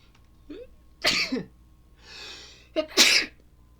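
A person sneezes twice, close and fairly loud, each sneeze preceded by a sharp inhale, with a quiet breathy pause between them.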